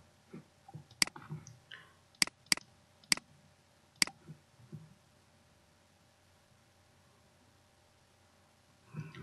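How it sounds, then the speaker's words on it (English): A computer mouse clicks on a save button during an API configuration setup: five sharp, close clicks spaced about a second apart against a quiet room background. "Then go to one and click on the save button."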